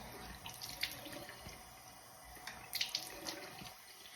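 Tap water runs steadily into a sink while a face is rinsed at home. It is a faint, continuous hiss, with soft splashes as hands move through the stream.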